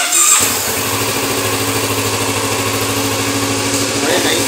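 A Kawasaki Z650RS 650cc motorcycle with a twin exhaust kicks into life after a brief pause and then runs at a steady, close-up idle with a sporty rumble, continuing without a break.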